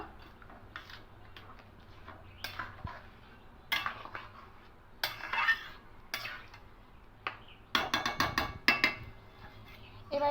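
A spoon knocks and scrapes in a pot as sweetened basanti pulao rice is stirred, sparse clanks at first that turn into a denser run of clatter, close and moderately loud.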